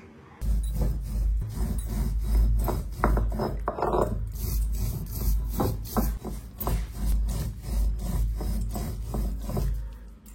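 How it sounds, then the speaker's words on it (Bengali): Cumin seeds being ground into paste on a grinding stone, with a steady rhythmic series of close, loud rasping strokes scraping back and forth for several seconds. "আর ততক্ষণে আমি জিরা কটা বেটে নেব।"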